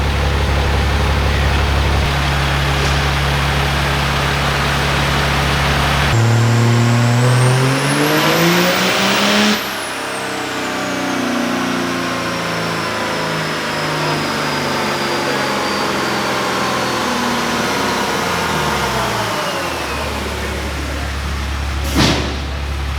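Cummins diesel truck fitted with an S467 turbo, running on a dyno on stock fuel, revving loudly and steadily, with a rising whine and rumble as it spins up toward high speed with no load.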